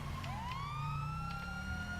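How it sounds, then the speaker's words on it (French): Police siren in the video game GTA 5, a continuous wailing tone sweeping upward and holding steady, loud and close over a low engine rumble, with no talking. "J'entends des sirènes de police."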